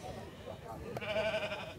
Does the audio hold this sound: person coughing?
no